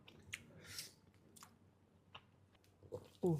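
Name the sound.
eating tape uli, sticky rice with fermented cassava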